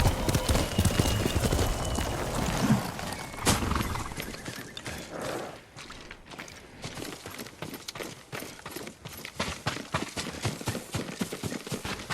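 Horse hooves clip-clop in a quick, steady rhythm close by in the video game Ghost of Tsushima, with a brief whinny early on and no talking.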